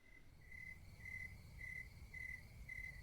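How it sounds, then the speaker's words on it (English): Crickets chirp in a regular pulsing rhythm, bursts repeating about twice per second over a low background rumble. "But crickets, the insect."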